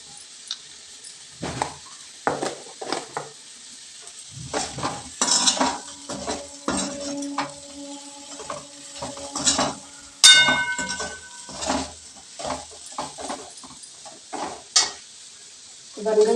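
Aloo methi sabzi made with boiled potatoes and kasuri methi is stirred in a sizzling pan, with a spoon scraping and clinking against the metal in an irregular rhythm over a steady frying hiss.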